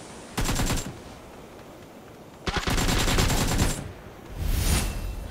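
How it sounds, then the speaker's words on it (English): Automatic gunfire from the mobile shooter PUBG New State, fired in three distinct bursts: a short volley, a long sustained string, then another burst near the end, loud and close with quiet gaps between. "This is when I was shooting at you up the hill"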